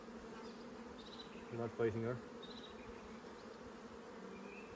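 Honey bees buzz around a marked queen in a hive, a faint steady hum throughout with a brief louder buzzing swell midway and a soft voice speaking over it.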